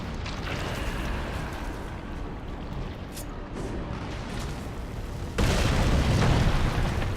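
A bomb explodes in the action video game Darksiders 2, a loud broadband boom bursting in near the end over a constant dense rumble of game sound.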